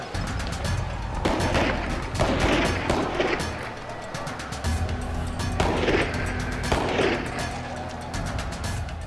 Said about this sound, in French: La police disperse la foule en tirant des coups de feu en l'air.